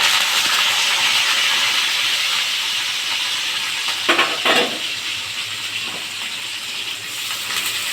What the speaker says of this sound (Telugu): ఉల్లిపాయ ముక్కలు అయితే వేగిపోయాయి